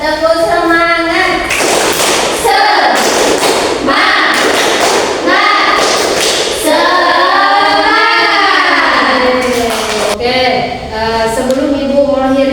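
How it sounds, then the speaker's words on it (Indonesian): A school class performs the tepuk semangat rhythmic chant, loud sung and shouted voices punctuated by sharp bursts of group clapping in a repeating pattern. "sekarang kita bakal tepuk semangat dulu nih"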